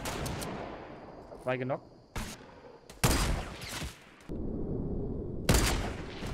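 Fortnite gunfire during a duo-versus-squad match, with several sharp, loud bursts of shots in quick succession, separated by short gaps, while players talk over the fighting.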